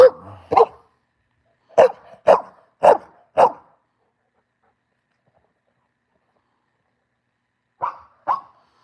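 A dog barks in short sharp bursts at home, two quick barks, then a run of four, then after a long silence two more, loud and close with nothing else in between.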